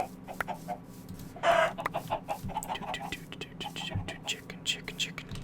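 Several Minecraft chickens cluck in quick, uneven bursts at close range, with a louder squawk-like flurry early on and scattered clucks continuing over a low background hum.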